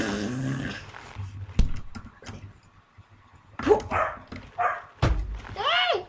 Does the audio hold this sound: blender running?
no